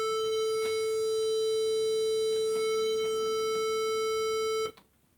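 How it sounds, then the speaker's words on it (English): A sustained A tuning note for cello tuning, of the kind an orchestra's oboe gives, holds steady and clear with rich overtones for several seconds and then cuts off abruptly into quiet. "an oboe player will give an A."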